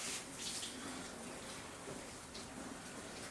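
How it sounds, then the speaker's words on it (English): Water poured out of a cooking pot that had boiled over while making brownies, a steady close splashing wash with no talk. "Take some water out."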